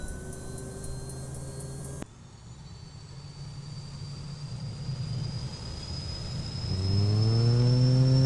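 An aircraft engine starting up in Flight Simulator X, a steady whine that cuts off, then a rising turbine spool with a climbing high-pitched tone, settling into a louder droning idle.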